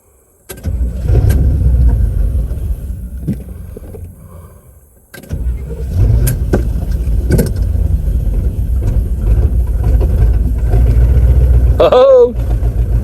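A 1971 Pontiac Ventura Sprint engine cranks briefly and catches, then runs steadily at a loud, close rumble with a few revs; a short pause comes before the start, and a brief voice bursts near the end.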